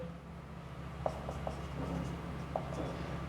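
Pen or pencil scratching on paper while an English grammar exercise answer is written out, quiet faint strokes with a few soft taps over a steady low room hum.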